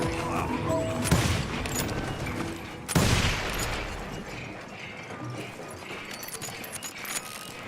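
Repeated gunfire from the Wild West video game Call of Juarez Gunslinger: loud shots crack out in bursts, with two heavy blasts standing out, over a busy backdrop of mechanical clatter and scattered distant shots.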